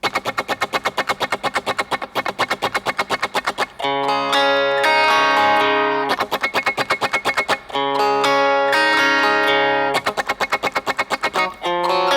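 Electric guitar played dry and clean with no delay effect, a song's verse part: fast repeated single-note picking alternating with ringing sustained chords, loud and close with no echo trailing the notes.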